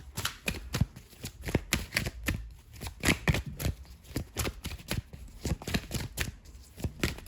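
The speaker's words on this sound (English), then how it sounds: "Give it a good shuffle." A deck of tarot cards is shuffled by hand in steady, rapid riffles and slaps, close and crisp, continuing without pause and with no voices.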